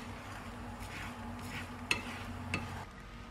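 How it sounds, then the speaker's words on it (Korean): Tuna kimchi fried rice pressed flat into a pan over medium heat gives a steady low sizzle, with two sharp brief clicks of a utensil against the pan. "팬에 이렇게 눌러 붙인 후 중불에 5분간 냅둘게요"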